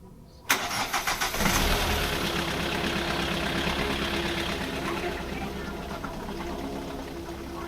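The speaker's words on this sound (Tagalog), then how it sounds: "Yung kotse." A car engine cranks with a few quick rhythmic turns, catches, and settles into a steady, fairly loud idle close by.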